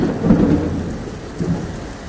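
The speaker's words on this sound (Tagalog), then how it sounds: "Rinig yung kulog ah." Thunder rumbles during heavy rain at a street intersection in Paliparan, with low booming swells over a steady dense wash of rainfall, loud and close, with no talking.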